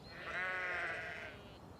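A single sheep on a farm lets out one clear, drawn-out bleat lasting about a second, fairly close and alone with no talk.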